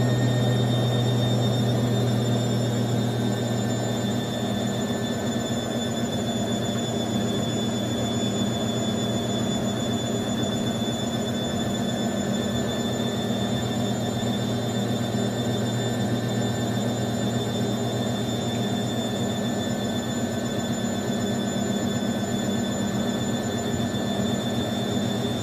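A machine steadily spinning at about 500 RPM, most likely a washing machine on its spin cycle, gives a loud continuous whirring drone with steady tonal hums, constant throughout.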